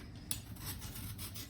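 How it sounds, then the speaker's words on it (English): Butternut squash rubbed against a grater gives a soft, steady rasping scrape, close and faint, with one sharper stroke early on. "you take your grater and you just grate up or down"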